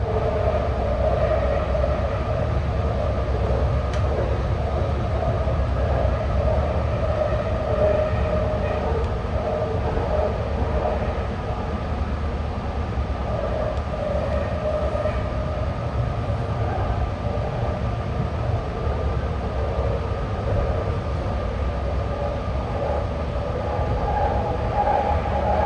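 A BART train on the orange line between San Francisco and Oakland rumbles steadily along the track, a continuous, loud rolling drone with a faint whining tone, heading into a tunnel at sunset.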